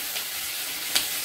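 Capsicum fries in a pan for chilli chicken, making a dense, steady close sizzle with one brief scrape or stir near the end.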